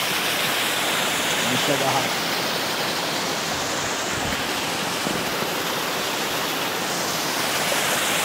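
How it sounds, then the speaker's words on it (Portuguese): A waterfall beside a hiking trail in the Swiss mountains gives a continuous loud, rushing roar of falling water, with a brief voice heard over it. "E no meio da nossa trilha a gente encontrou essa cachoeira."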